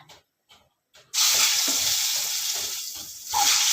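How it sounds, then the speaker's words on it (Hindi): Eggs hit hot mustard oil seasoned with salt and turmeric, setting off a loud, steady sizzle after a few quiet taps, close to the pan and continuing without letup. "तेल गरम होगा टे लुण देदबा लुण हल्दी तापर देदबा अंडा"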